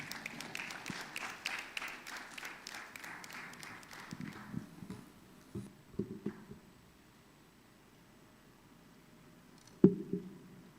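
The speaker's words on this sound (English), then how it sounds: "A round of applause for her as she joins us. Please keep clapping." Audience applause at a finance and banking summit greets a bank executive taking the stage. The clapping is fairly full at first, thins out and fades over several seconds, then gives way to near quiet broken by one sharp knock.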